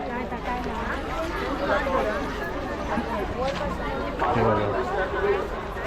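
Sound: crowd chatter at the Anganewadi fair

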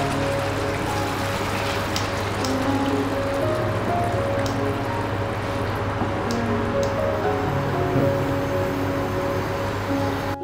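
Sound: soybean kofta curry gravy simmering on medium heat

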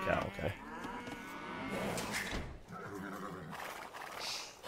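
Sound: cow mooing in video game Age of Empires

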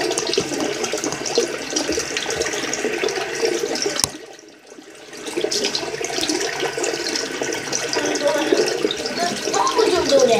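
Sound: water running from a tap

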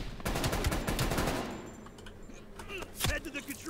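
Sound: gunshots in video game Call of Duty Black Ops Cold War

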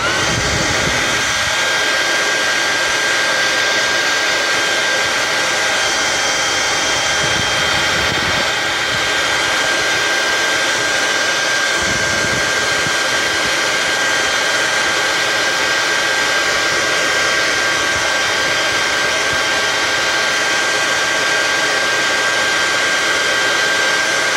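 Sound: hair dryer melting lip balm

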